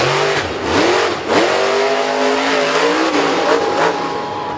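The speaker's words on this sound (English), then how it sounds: "not the fucking monster truck" A monster truck engine revs hard in a loud, continuous roar with rising pitch sweeps and surges, heard alone without any talking.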